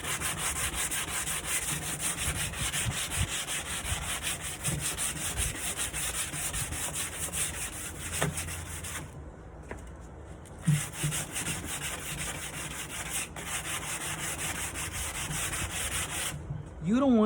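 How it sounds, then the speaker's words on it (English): A wooden night table is sanded slowly by hand, a steady, soft scratchy rubbing that continues for a long stretch with brief pauses, close and fairly quiet, with no talk over it. "You don't want to get crazy on the sanding."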